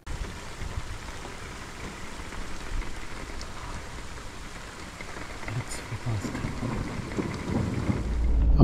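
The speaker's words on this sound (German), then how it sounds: "da ein Gewitter aufzieht." A thunderstorm moves in during a Mongolia road trip: steady, dense rain hisses throughout, and low thunder rumbles grow louder toward the end.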